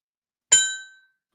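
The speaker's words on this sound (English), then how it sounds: "ring that bell" A small bell struck once, a bright clear ding that rings out and fades over about half a second, alone in silence.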